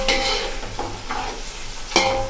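Onions fry in a pan for mushroom biryani, a steady sizzle broken by the scraping sweeps of a spoon stirring them, close and without talk.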